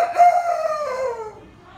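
A voice imitates a rooster crowing, one loud close call that rises and then draws out into a long falling tail before fading.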